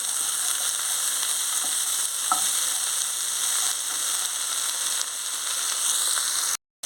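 Okra pieces and tomato sizzle steadily in a hot pan, a dense, continuous frying hiss with faint stirring scrapes, close and loud, ending in a brief drop to silence.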